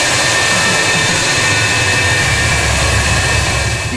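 An F-4E Phantom II jet at Andravida air base in Greece roars loudly and steadily, a dense continuous engine blast with a high whine on top and no voices.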